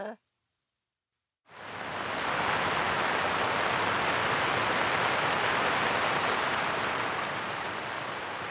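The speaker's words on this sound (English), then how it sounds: "Finally, in late autumn, the rain arrives." Late autumn rain falling on farm paddocks, starting as a brief sound, then near-silence, then a sudden steady hiss of heavy rainfall that holds evenly and fairly loud to the end.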